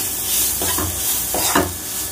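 Capsicum stirred with ground coriander and cumin in a frying pan, a steady sizzle under two short bursts of spoon scraping, close and fairly loud with no voices.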